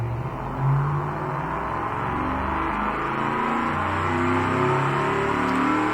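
Steady engine drone with a rising rev from a car built in the Automation car company tycoon game, a continuous low hum holding at moderate loudness for several seconds with no voices.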